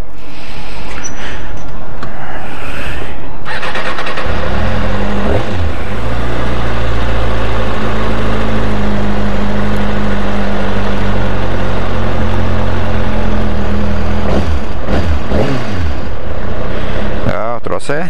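Kawasaki Ninja ZX-6R 636 sport motorcycle firing up and settling into a steady, loud close-up idle with a low throbbing hum, a few revs and handling noises near the start and end.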